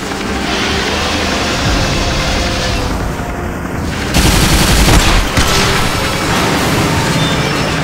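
Gunfire in the Bulletstorm video game campaign: loud, dense bursts of shooting and explosions, with the barrage getting heavier partway through and no talk over it.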